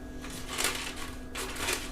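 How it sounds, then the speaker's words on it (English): Parchment paper crinkles and rustles as it is pressed into a pan for buttercream fudge, two short crackling bursts over a steady background hum. "My parchment paper is not wanting to cooperate tonight."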